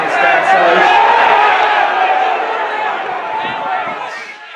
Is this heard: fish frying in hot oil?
no